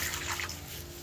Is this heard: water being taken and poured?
yes